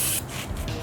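Brake cleaner sprays from an aerosol can in a short, sharp, close hiss that cuts off after a moment, leaving a rough, noisy background.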